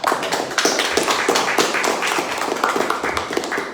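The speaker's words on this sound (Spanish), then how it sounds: "le demos un fuerte aplauso, por favor" An in-person audience at a lecture on the Lacandon desert and jungle claps in dense, sustained applause, many hands close and loud, with no talking.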